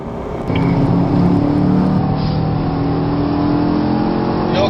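A Camaro or Corvette engine accelerates on the Spring Mountain Motorsport Ranch racetrack, a loud, steady engine drone that swells after a brief quieter start and holds at a sustained roar.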